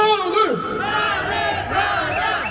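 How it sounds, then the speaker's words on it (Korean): A crowd at a candlelight rally calling for the impeachment of President Yoon Suk Yeol in Cheongju, South Korea, shouts Korean slogans in unison, voices loud and massed together in a rhythmic chant. "신나게 구호 한번 외치겠습니다"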